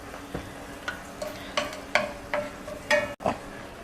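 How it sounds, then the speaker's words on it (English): Onions sauté in a pan with pepper, salt and garlic, a soft sizzle under a series of spaced utensil scrapes and taps against the pan, close and moderately quiet. "So we are going to be sauteing the onions, adding pepper, salt, and garlic."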